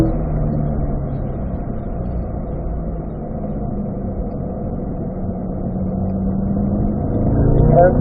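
A car accelerating out of a corner during a hot lap on a race track, its engine a loud, steady, droning roar that swells toward the end.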